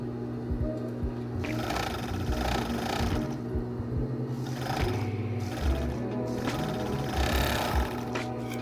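A sewing machine stitches a sleeve into a dress, its motor whirring in steady bursts with rapid needle chatter, close and continuous with brief pauses between runs.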